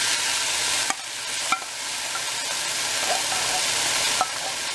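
Mushrooms sauté in a pan for a zucchini noodle dish, a loud, constant frying sizzle broken by a few sharp clicks of a utensil against the pan, with nobody talking.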